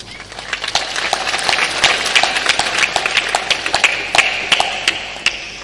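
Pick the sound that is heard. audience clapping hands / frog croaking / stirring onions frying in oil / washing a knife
audience clapping hands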